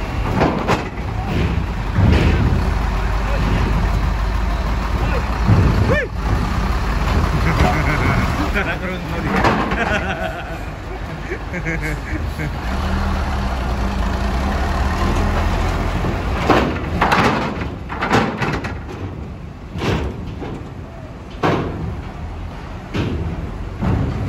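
Trucks at Merak ferry port make a continuous heavy rumble with low engine drone and scattered knocks and clanks, with people talking now and then over the busy dockside noise.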